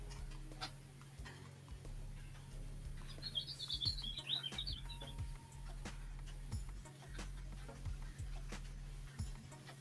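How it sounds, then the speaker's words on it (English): A bird chirps in a brief quick burst just outside a door, faint against steady low indoor hum and scattered ticks. "There's a bird now that's like right outside my door going,"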